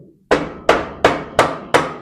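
A hammer strikes a project car's suspension part five times in a steady, even rhythm, each blow a loud, close, sharp metallic knock with a brief decay.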